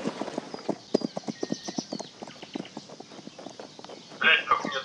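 Horses gallop in the strategy game Cossacks 3, a steady run of rhythmic clip-clop hoofbeats at mid distance, with faint game voices underneath and a brighter burst of activity near the end.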